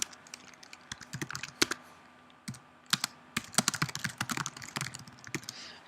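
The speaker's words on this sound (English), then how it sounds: "I hit my backtick and then click a number." Someone types on a computer keyboard at a terminal, with bursts of crisp key clicks and a few heavier single strikes, close and fairly quiet, pausing briefly around the middle before resuming.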